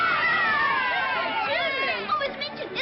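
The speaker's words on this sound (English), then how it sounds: "Do you hear the cheering?" A crowd cheers and shouts in celebration, a dense mass of overlapping voices with rising calls, heard steadily throughout and growing more broken toward the end.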